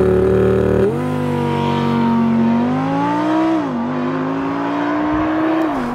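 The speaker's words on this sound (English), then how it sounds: "Mike, how do you activate launch control? Easy man, throw it in dynamic, put it in sport, press ESP off" A 2018 Audi R8 Spyder pulls away under launch control, its engine note rising steadily in pitch through the gears with a brief dip at a shift, loud and close throughout.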